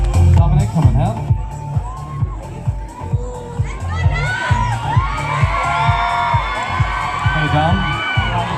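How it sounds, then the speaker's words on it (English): A pageant audience whoops, shouts and cheers loudly, with excited voices over a pounding rhythmic music beat throughout. "Give yourselves a round of applause."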